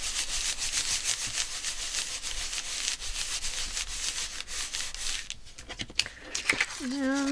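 Repeated dry scrubbing strokes rub across a paper tag at close range, a soft rhythmic abrasive swishing. A voice is heard near the end.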